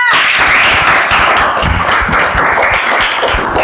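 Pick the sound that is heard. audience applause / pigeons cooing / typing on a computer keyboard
audience applause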